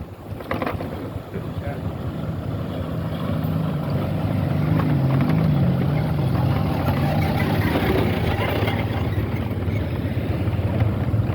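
A motorcycle crosses the Umah Besi Bailey bridge on a national road, its engine a steady low rumble that grows slightly louder midway, mixed with wind buffeting against the microphone.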